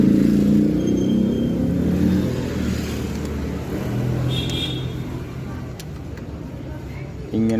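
A Hero Splendor Plus motorcycle engine idles after a tappet adjustment, a steady close low rumble that eases slightly in level, with a brief burst near the end.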